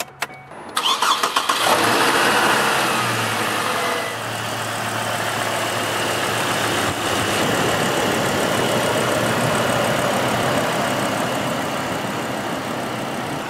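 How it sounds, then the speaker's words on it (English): A 2007 Chevrolet Colorado 4x4 pickup engine cranks briefly and catches, then settles into a steady, fairly quiet idle heard up close, with no talking. "So I'm just going to start it up so you guys can hear this engine."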